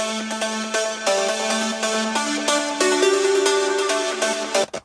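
Several layered synthesizer plugin sounds playing together in a studio, bright sustained chords shifting every half second or so, steady and loud, ending with a short downward sweep.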